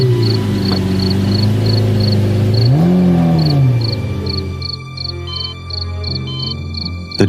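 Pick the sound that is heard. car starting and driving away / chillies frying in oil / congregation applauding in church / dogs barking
car starting and driving away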